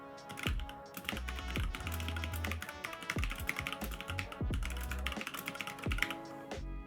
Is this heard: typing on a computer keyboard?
yes